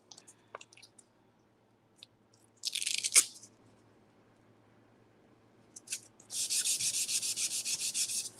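Two stretches of raspy hand sanding on a Dollar Tree lantern: a short scrub, a pause, then a steadier run of rhythmic back-and-forth strokes.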